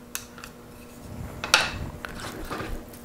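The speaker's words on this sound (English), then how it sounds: "gently whisk the roux into the milk" A small whisk works roux into half a cup of milk in a pan on a burner, giving faint, scattered metallic clicks and scrapes with one sharper tap midway.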